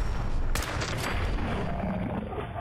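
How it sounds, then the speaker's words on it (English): Hunting rifle with explosive rounds firing in Fallout 4, loud gunshots with a sharp blast near the start and a couple of quicker follow-up shots, then a long rumbling explosive tail over dense game noise. "Explosive hunting rifle."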